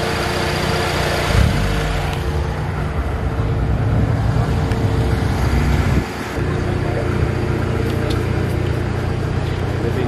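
A 1600 cc car engine fitted with ITR pistons runs steadily at a car meet, a continuous loud rumble throughout with brief shifts in tone, and voices faintly underneath.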